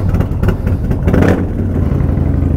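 A modified Harley Softail motorcycle engine revs close by, a deep loud rumble that surges into a sharper rising burst around the middle before settling back to a throbbing idle.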